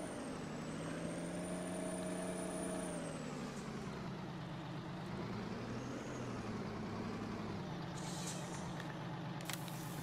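A truck in Farming Simulator 19 drones steadily as it drives, its engine tone rising and falling with a faint high whine, and a couple of brief clanks come near the end.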